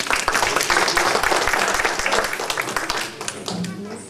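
An audience at a Hindi Diwas celebration applauds to welcome a guest speaker, with close, crisp clapping from a modest crowd that thins and tapers off toward the end amid a little background murmur.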